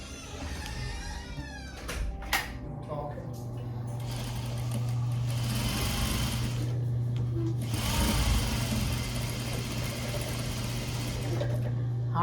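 A domestic sewing machine runs steadily for several seconds, stitching quilt fabric pieces for a wonky four-patch quilt, with a continuous motor hum and rapid needle chatter, close and fairly loud, along with clicks and handling noise.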